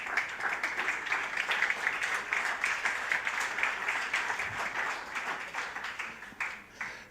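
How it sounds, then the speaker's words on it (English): A conference round-table audience gives a round of applause, sustained many-handed clapping at an even level that tapers slightly toward the end. "A round of applause, please."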